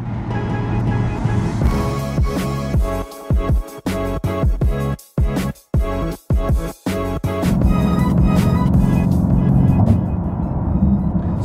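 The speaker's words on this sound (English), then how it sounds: "Oh, I love the sound of this exhaust." A loud, throaty Nissan 370 engine and exhaust roar with rises and drops as it revs and shifts while driving in London, steady droning at the start and end.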